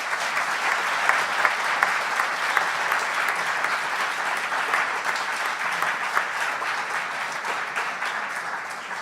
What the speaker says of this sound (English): Please join me in a final round of applause and thanking our guests.